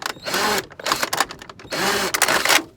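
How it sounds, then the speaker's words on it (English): Power drill boring holes into a plastic seed tray over scrap wood, several short whirring bursts separated by brief pauses, close and moderately loud, with no talking. "And so I just take a power drill"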